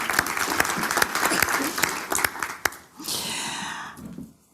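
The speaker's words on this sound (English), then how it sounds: "Yeah, we can send an applause." Audience applause at a conference on disability rights and accessibility, a crowd clapping with some louder individual claps standing out, fading after about three seconds into a softer tail.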